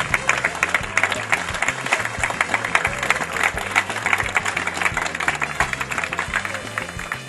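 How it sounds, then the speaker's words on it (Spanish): A crowd applauds at an outdoor club anniversary celebration in a plaza, clapping continuously under loud, rhythmic background music with a pulsing beat. "quiero que todos le demos un fuerte aplauso y el agradecimiento por participar en esto"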